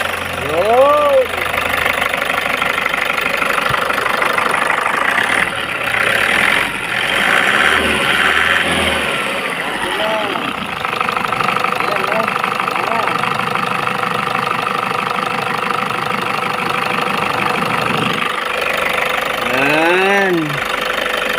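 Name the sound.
repaired engine running and idling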